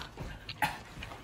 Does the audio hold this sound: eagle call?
no